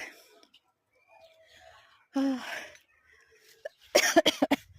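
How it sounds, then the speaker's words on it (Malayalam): A few soft breathy coughs, then a quick cluster of sharper coughs near the end, close by with quiet vocal sounds between. "ചുമയൊക്കെ വന്നു."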